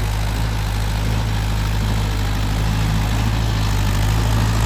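Tractor engine, a 4x4 Swaraj 585, running steadily in a potato field being prepared, a loud continuous low idle-like drone with no talk over it.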